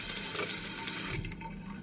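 Water runs steadily into a toilet tank refilling after a flush, a close, continuous rushing fill that softens and thins toward the end, with no one talking.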